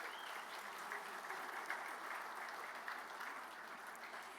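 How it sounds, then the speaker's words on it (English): A conference audience applauds a congressman, a steady wash of many hands clapping at moderate distance, fairly quiet and unbroken for the whole stretch. "could we give another round of applause for the incredible Congressman Tom Cole"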